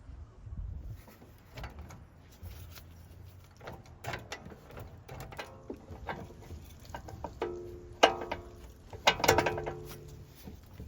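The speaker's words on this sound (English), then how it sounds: "Jacking this thing up" A jack ratchets with irregular mechanical clicks and clunks as it lifts the suspension of an Audi A6 C6 during control arm work, with sharper metallic knocks near the end.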